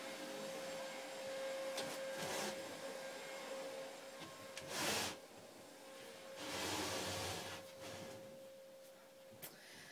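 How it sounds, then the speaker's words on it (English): A household vacuum cleaner drones steadily in the background for the whole stretch, a constant whine with a few louder rushes of airflow, and no one speaks. "Apologise for the hoovering in the background."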